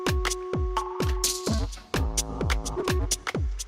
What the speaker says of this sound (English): Yeah, you can hear the reverb in the background.